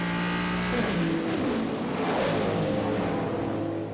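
Hypercar prototypes at the 6 Hours of Spa race in the FIA WEC scream past in a dense, continuous, loud roar, with engine tones climbing and dropping as the cars accelerate and sweep by.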